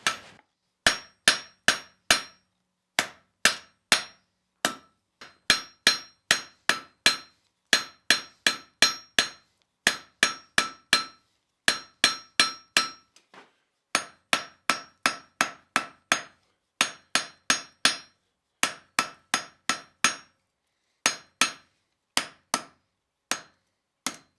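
Steel struck repeatedly by a forging hammer while the handle of a campfire cooking fork is drawn out, sharp ringing blows in quick bursts of three to six with brief pauses between, close and loud with no talking.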